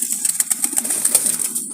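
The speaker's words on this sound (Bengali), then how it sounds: "দেখেন কবুতরগুলো" Wild Jalali pigeons coo softly in short repeated low calls beneath a steady high-pitched background hiss, with no talking.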